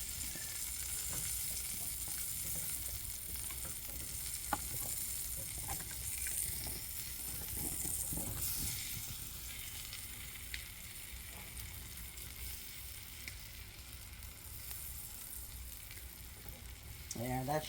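Slices frying in a small pan, a steady close sizzle with light crackles and a brief clink, continuing without talk.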